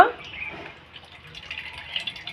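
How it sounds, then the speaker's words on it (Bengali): Potato water drips and trickles through a kitchen strainer in soft, irregular little drops, faint and close, with a light background hiss. "এই দেখুন সহজেই আলুর জলগুলো পড়ে যাচ্ছে"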